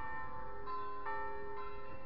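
Church bells of a Reformed church ringing to call people to worship, a steady sustained peal with ringing overtones, heard from across the street outdoors.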